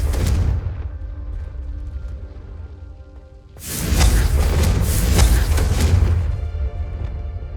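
Blasting Confringo fire spells go off in Hogwarts Legacy, with a brief burst early on and then a loud, dense barrage of booming, crackling impacts that sustains for several seconds before easing slightly.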